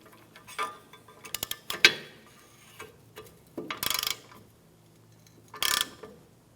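A bolt on the exhaust manifold of a 2007-2012 Nissan Versa is tightened with a wrench, giving quiet, scattered ticking clicks and two short, louder bursts of rapid ratcheting.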